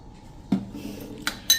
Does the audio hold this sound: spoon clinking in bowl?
yes